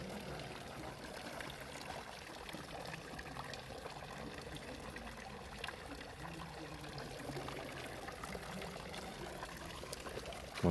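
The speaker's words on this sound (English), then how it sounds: "that one well makes water noises" Steady splashing of water pouring from a village fountain well with a small gecko statue in Interlaken, Switzerland, on a misty Yule evening, a continuous broadband rush heard close and alone throughout.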